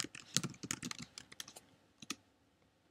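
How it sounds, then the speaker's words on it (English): Keys on a computer keyboard are tapped in a quick, quiet flurry of clicks as a password is entered, pausing briefly before a couple of final taps. "Ms. Sashio, type your password,"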